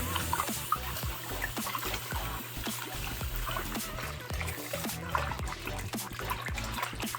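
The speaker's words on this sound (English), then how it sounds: "rub your hand in the water. Mix up the soap." A hand swishes and stirs soapy bath water in a small tub during a reborn doll bath, soft continuous sloshing and trickling with irregular splashy ticks, close and fairly quiet, no talking.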